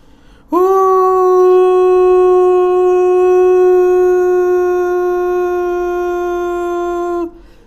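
A dog lets out one long, loud, sustained howl that starts abruptly, holds a steady pitch for about seven seconds, then cuts off, heard alone and close.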